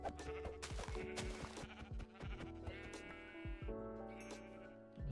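Sheep bleating in the video game Minecraft, a few wavering bleats over dense, busy background game sounds, with loud, steady activity throughout and no talk.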